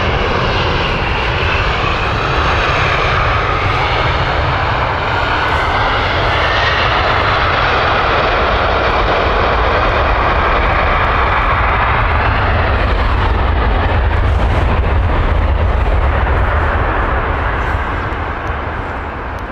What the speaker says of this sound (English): We also got Air India's Airbus A350.